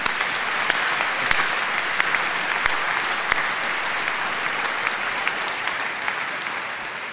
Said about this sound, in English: let's all join together and applaud again what they have done already